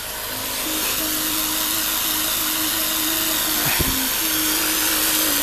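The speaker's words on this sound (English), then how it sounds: "I need some air in tyres." A small electric air pump inflates a Kawasaki ZX12R motorcycle tyre with a loud, steady droning whine that runs throughout, broken by a brief clunk near the end, with no talking.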